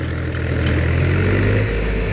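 A 735 FE single-star tractor with plain steering pulls a 7-foot rotavator under load, its engine a loud, steady diesel drone with a strong low throb and no talk over it.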